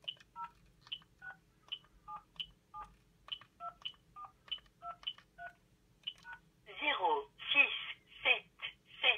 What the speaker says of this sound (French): Je vais saisir mon numéro.